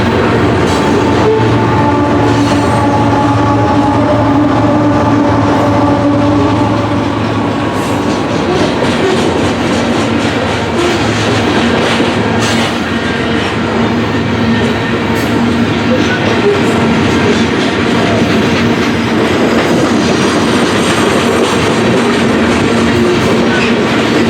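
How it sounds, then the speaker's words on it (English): A freight train of leased coal hoppers passing through Fremont, Nebraska at about 40 mph, with a pair of Canadian GEVO locomotives idling as mid-train DPUs; a loud continuous rumble and wheel clatter roll on throughout with no break. "A pair of Canadian GEVOs can be heard idling as mid-DPUs as the train holds near 40 miles per hour"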